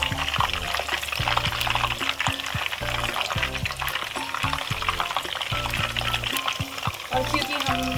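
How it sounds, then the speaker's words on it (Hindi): Chicken kulfi kebabs frying in oil over medium-low heat give a steady, close bubbling sizzle, with a rhythmic low clatter of other cooking mixed in throughout. "कुल्फी कबाब फ्राई होते हैं"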